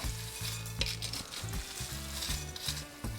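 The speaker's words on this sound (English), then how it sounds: "And then gently stir that until it's thoroughly mixed." Chex party mix with pretzels and peanuts stirred in a bowl, a rhythmic series of dry rattling, crunchy scrapes and shuffles, close and fairly loud, with no talking.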